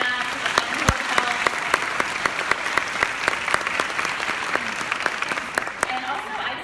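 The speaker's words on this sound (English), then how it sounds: "So I just want us all to give a round of applause to the staff here, to Tina and Brenna, to the Glen Hotel." An indoor audience at a candlelit Advent evening event in a hotel applauds the event staff, a dense, steady clapping from a roomful of people lasting several seconds.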